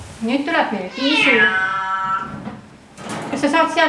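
A cat gives a couple of close, loud, whining meows indoors, the second shorter and rising, with slight handling noise around them.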